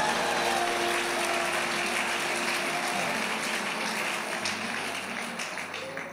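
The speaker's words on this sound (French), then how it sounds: "Acclamez pour vous-même." A large indoor audience applauds continuously, a dense, loud wash of clapping that tapers slightly toward the end.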